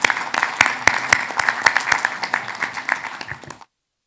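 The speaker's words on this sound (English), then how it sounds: "please join me in giving a round of applause to the speakers who shared their insights today" Audience applause for panel speakers at an Islamic liquidity management roundtable, loud close clapping with distinct individual claps standing out, tapering slightly before cutting off abruptly.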